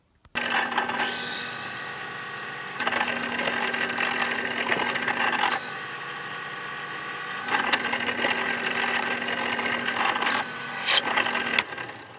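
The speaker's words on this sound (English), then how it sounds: "we just drilled those out with the hole saws" A drill driving hole saws through a cast resin ring blank, a continuous high whirring grind with steady tone that shifts in pitch between cuts, running close and loud for about eleven seconds before stopping.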